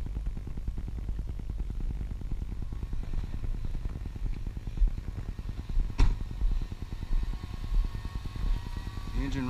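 An engine idles with a steady, rapid low chugging, with a brief clank partway through and no voices.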